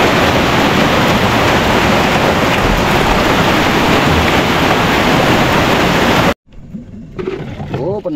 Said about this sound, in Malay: Kita tunggu hujan sampai berhenti.